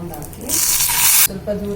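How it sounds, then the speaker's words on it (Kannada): Hot tempering is poured into Tamil Nadu style tomato rasam, giving a sudden loud hiss and sizzle that lasts under a second before cutting off sharply, with talking just before and after. "ಒಗ್ಗರಣೆ ಇದಕ್ಕೆ ಹಾಕೊಂಬಿಡೋಣ."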